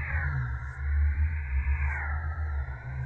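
Music software with a reverb effect: a sustained synthetic tone with a deep bass drone, washed in reverb that smears and lingers, slowly bending in pitch.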